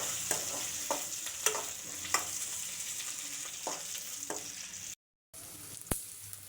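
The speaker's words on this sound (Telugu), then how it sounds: "ఇంట్లోకి పచ్చిమిర్చి యాడ్ చేసుకొని కొంచెంసేపు వేయించుకొని" Green chillies frying in a pan for an aloo curry, a steady soft sizzle with occasional spoon scrapes and stirs, close and moderately quiet, no talking.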